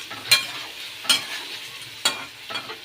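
Spices and green peas stir-fried in a wok, with a steady sizzle broken by four sharp scraping strokes of the spatula at roughly regular intervals, close and fairly loud.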